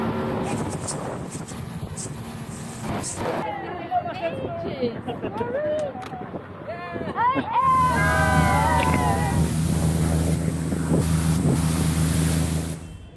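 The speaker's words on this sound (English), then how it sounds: "getting in a very little boat" Voices and wind noise first, then a very small boat's motor starts droning steadily on the water, with sloshing and wind buffeting the microphone.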